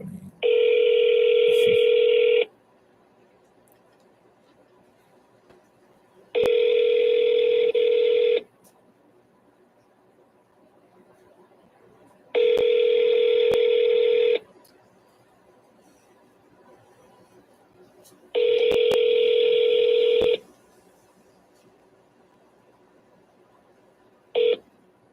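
A ringback tone plays on an outgoing cold call to a painting and renovation business. Four steady two-second rings repeat about six seconds apart, clear and loud with no voices, and a brief blip comes at the end.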